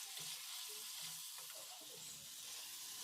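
Chicken pieces sautéing in a pan with chopped tomato and chili give a faint, steady sizzle and hiss throughout, with soft stirring movements underneath.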